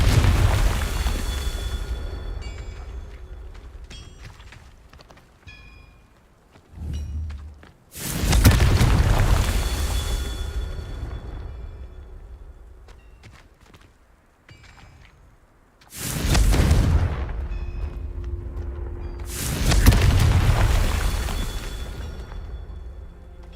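Confringo blasting spell explosions in the Hogwarts Legacy video game: three loud, close booming blasts with broad rushing tails, set apart by quieter stretches of game ambience and faint chimes.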